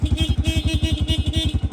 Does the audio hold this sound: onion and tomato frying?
no